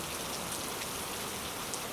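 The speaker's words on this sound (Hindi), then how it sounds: "लेकिन ये तो कितने दिनों से लगातार चल रही है" Steady rain pours down in a cartoon forest, a dense, even hiss of falling drops that holds constant throughout with no voices.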